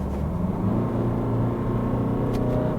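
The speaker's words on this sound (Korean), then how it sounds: "그리고 이제 수동 변속을 해보면" A Jeep Renegade 1.6 diesel SUV with a DCT gearbox shifted manually while accelerating: a loud, steady engine drone and road rumble heard from inside the cabin, with no voices.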